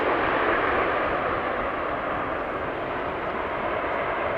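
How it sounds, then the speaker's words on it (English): A Lufthansa Airbus airliner approaches the runway at Amsterdam Schiphol, a steady broadband jet roar that holds loud and even with no talk over it. "Now the Lufthansa Airbus maintaining a relatively high speed."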